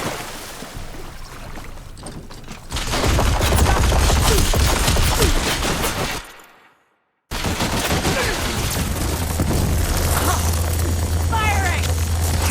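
Sustained gunfire in a video game set in Londra's park, loud dense bursts under a steady low rumble, with a brief drop to silence midway before the firing resumes; voices talk over it.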